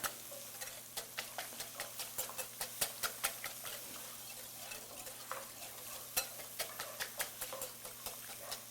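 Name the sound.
stirring browned garlic in a pan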